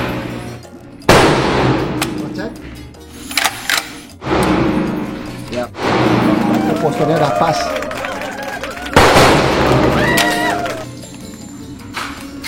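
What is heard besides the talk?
pistol gunshots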